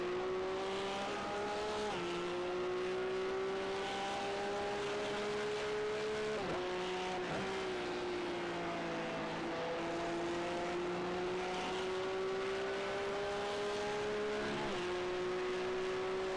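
Porsche Cup race car engines in a sim racing game at Zolder wail continuously at high revs, pitch climbing through gears with brief dips at shifts, loud and close throughout.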